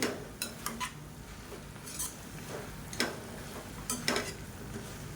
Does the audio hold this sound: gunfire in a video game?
no